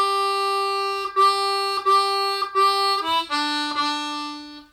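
A blues harmonica plays a closing lick, repeated reedy draw notes in a short rhythmic pattern with brief breaks, ending on a lower held bend, solo and clear.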